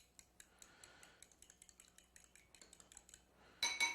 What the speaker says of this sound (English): Let's grab a fork. We're going to whisk this stuff up real quick.